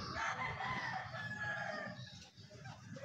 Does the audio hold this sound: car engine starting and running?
no